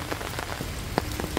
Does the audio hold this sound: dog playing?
no